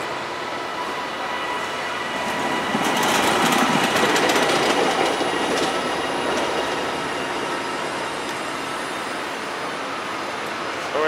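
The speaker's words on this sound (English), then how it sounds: "That's my train coming right here." A train pulls into a station on the Manchester to London Euston line, heard as a steady loud rumble with metallic wheel squeal and rattling that swells in the middle and holds throughout.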